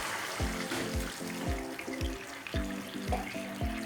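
Half a glass of water goes into a pan of Gobi Manchurian gravy, giving a soft, continuous splashing and bubbling with repeated gurgling pulses, fairly faint and close.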